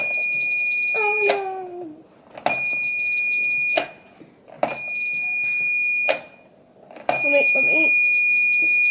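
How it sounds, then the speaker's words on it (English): A door alarm goes off as the door opens, giving four sharp, high electronic chirps spaced about two seconds apart, loud and close, with a person speaking briefly at the start. "opening the door sets the alarm off"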